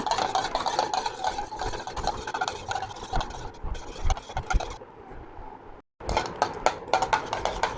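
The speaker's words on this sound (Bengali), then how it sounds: "ডিম দুটাকে ভালো করে ফেটিয়ে নেব" Two eggs beaten well with a fork or whisk in a bowl, a close, rapid scraping and clicking whirr that runs almost continuously, with a brief pause near the end before resuming, no talk.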